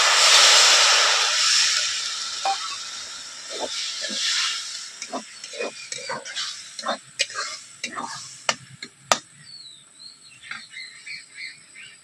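Water poured into a pan of half-fried potatoes makes a loud burst of steam hiss that fades over several seconds into scattered crackling pops and spits.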